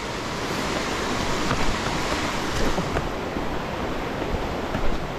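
Rushing water floods part of a muddy mountain trail, a loud continuous broadband roar that stays steady throughout, with no voices.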